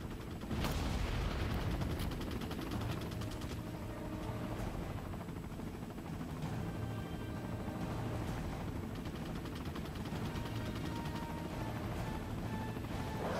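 Dense, sustained gunfire from enemies in the video game Resident Evil 4, loud rapid shots and impacts layered over a constant rumbling game soundscape, with no talk.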